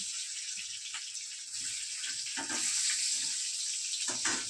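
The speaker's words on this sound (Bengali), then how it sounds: "এই তেলে আমি বেগুনগুলো ভেজে নেব হালকা করে" Eggplant pieces fry lightly in oil, giving a soft crackling sizzle with intermittent bursts of spattering that swell slightly toward the end.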